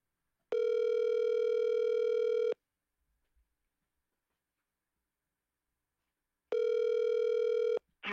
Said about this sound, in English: I'm cold calling this guy. This is a cold call.